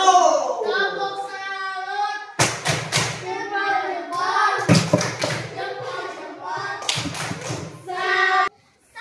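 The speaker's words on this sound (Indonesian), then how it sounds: "Beri tepuk salut untuk kelompok 1." Classroom applause for the winning group, several bursts of rhythmic clapping and thumping from students, mixed with children's voices chanting and speaking throughout.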